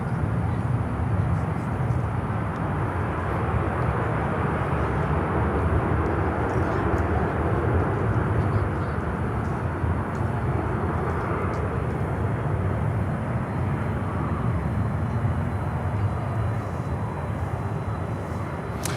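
A large jet takes off from Miami Airport with a loud, steady, broadband engine roar that holds for the whole stretch with little change.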